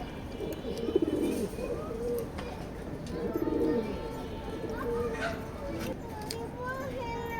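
Racing pigeons coo repeatedly in a loft, soft low murmuring calls rising and falling over several seconds, with other birds chirping faintly and a steady background bustle.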